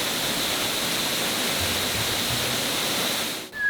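Chapel Falls in Massachusetts, a low curtain of water pouring off rocks, gives a steady, dense rushing roar from nearby that cuts off abruptly at the end.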